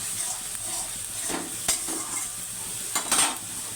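Spice paste fries in a pan for a bhola fish curry with onion, a soft steady sizzle with a few sharp spoon scrapes and taps as it is stirred, close but fairly quiet.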